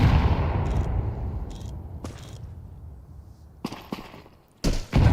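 Sharp, distinct gunshots in a Counter-Strike esports match ring out as a few separate cracks spaced over several seconds, with a quieter stretch between them and a fading rumble at the start.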